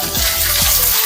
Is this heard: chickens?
no